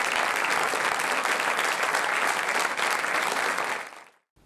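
An audience applauds after a harmony orchestra concert. It is a dense, steady wash of clapping from a large crowd that holds for about four seconds and then cuts off abruptly.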